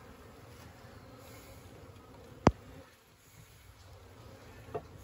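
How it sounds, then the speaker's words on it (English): Mellow honey bees buzz softly around a newly installed hive on a cool day, a faint steady hum with a sharp click midway and a small knock near the end. "So far, these are pretty mellow bees, though."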